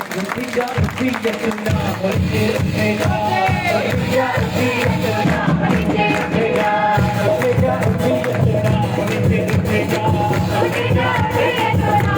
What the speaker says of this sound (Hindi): जोर से परमेश्वर के लिए ताली बजाएं